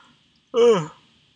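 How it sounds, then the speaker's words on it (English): One breathy, drawn-out yawn swells and fades, close and fairly loud, with a brief voiced moan in the middle. "Sorry about the yawn."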